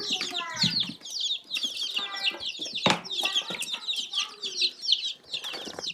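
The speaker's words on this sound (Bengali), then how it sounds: "এইখানে আমার দশ পিস দেশি মুরগির বাচ্চা আছে" Ten native desi chicken chicks peep and cluck in a busy, continuous chorus, with a brief flutter of wings and a few faint voices in the background.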